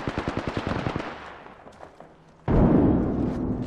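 A frag grenade blast in the video game Apex Legends, following a rapid string of automatic gunfire bursts; the explosion hits loud and sudden, then rumbles on with a sustained roar.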